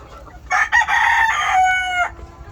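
A rooster on a poultry farm gives one loud, close crow lasting about a second and a half, rising and then drawn out, standing clear above faint background noise.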